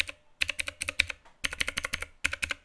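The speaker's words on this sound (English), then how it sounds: "these are proper mechanical blue keyboard switches which provide a clicky feel and sound when" Clicky mechanical blue switches on a Divoom Ditoo keyboard pressed in quick bursts of several keystrokes each, with short pauses between them, crisp and close.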